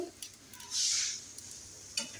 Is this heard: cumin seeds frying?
yes